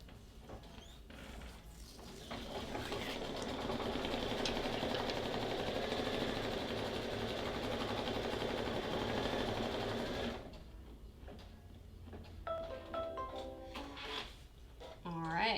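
A Brother ScanNCut sewing machine stitches around a ghost shape in metallic thread, a steady close mechanical whir lasting about ten seconds before stopping, followed by quieter handling clicks and light movement.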